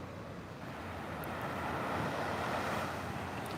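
Ocean waves on a Florida beach, a soft, steady wash of surf with wind buffeting the microphone, fairly faint and without talking.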